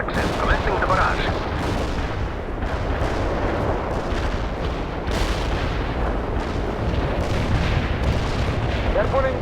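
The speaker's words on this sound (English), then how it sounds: "Commencing the barrage strike" An artillery barrage in the strategy game World in Conflict pounds continuously, with repeated heavy booms and rumbling detonations layered densely over one another for the whole stretch, with faint radio-style voices in places.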